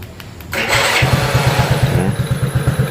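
A Honda C70 motorcycle engine catches after a short burst of cranking, then settles into a steady, close, pulsing idle with a regular putter.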